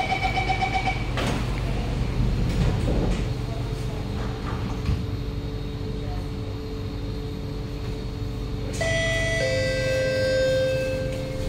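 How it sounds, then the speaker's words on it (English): A Singapore SMRT C751B metro train's door chime sounds on the North South Line at Marsiling, then the doors slide shut over steady rumbling train noise, followed by a rising electronic tone as the train moves off. "Doors are closing."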